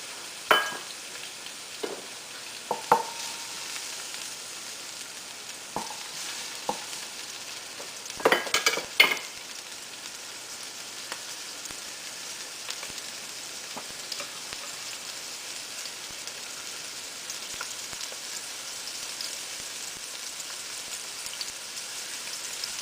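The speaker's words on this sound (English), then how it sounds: "Just stir the onions up a bit" Chopped onions sizzle steadily in a hot pan for an eggplant chicken stew, a constant crackling frying hiss broken by a few sharp scrapes and clinks of a utensil stirring, with no talking.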